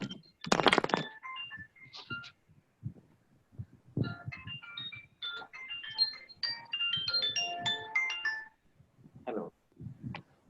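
A mobile phone's melodic ringtone chimes for several seconds during a trading seminar. The bright notes are surrounded by brief voices and rustling handling noise.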